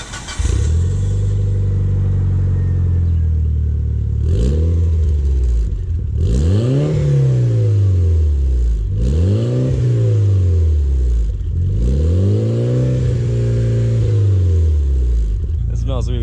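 A Mitsubishi Evo IX MR engine with a DC Sports catless downpipe exhaust revs loudly and up close, climbing and falling in about five rising-and-dropping sweeps over a steady idle rumble.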